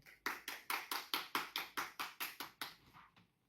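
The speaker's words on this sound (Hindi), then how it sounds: "कृपा करेंगे ताली से स्वागत करें" Around a dozen crisp, evenly spaced claps beat out a steady quick rhythm in welcome of a comedy show guest, then thin out and fade at the end.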